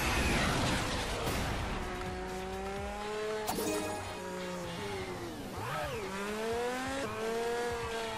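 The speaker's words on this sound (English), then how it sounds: "it sounds almost more like a really high-powered RC car at times" A high-revving sports car engine from the game Table Top Racing: World Tour roars continuously, pitch rising and falling with gear changes, sounding synthetic and buzzy like a game engine.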